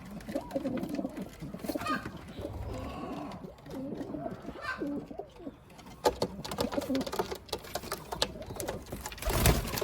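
Hünkari pigeons, a Turkish breed, coo softly in a loft with their young, low repeated calls over light shuffling and a few sharp clicks and knocks.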